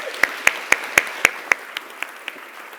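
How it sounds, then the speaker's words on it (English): An audience at a student literature conference greets a speaker to the stage with a short run of crisp, evenly spaced claps that quickly thin out and fade to a few soft final ones. "So please can we have a round of applause and welcome Wendy Lennon to the stage."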